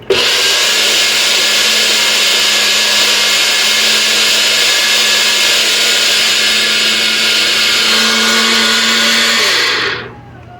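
A kitchen blender grinds dried okra into powder, a loud steady high-pitched whir that holds for about ten seconds before spinning down and cutting off at the end, with no talking.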